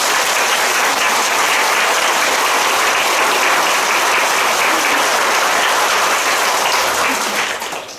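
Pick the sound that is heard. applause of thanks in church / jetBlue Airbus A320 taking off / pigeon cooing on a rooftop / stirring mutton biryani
applause of thanks in church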